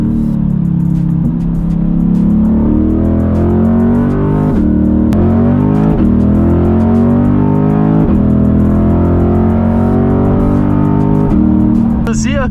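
A Chevrolet Corvette engine pulls hard through the gears, a loud close roar that climbs in pitch and drops sharply at several quick shifts, with the driver talking over it.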